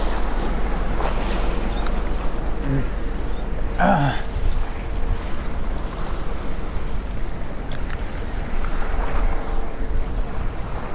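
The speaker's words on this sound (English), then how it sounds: "Kind of windy, real windy out here." Strong wind roars steadily into the microphone outdoors at a jetty, with lapping water beneath it throughout.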